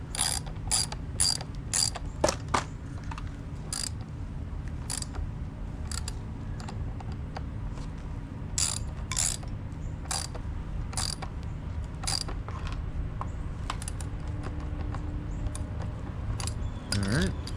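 Steady ratcheting clicks from a hand tool tightening parts back down, repeated in quick bursts throughout with small metallic clatters, fairly quiet and close, with no talk.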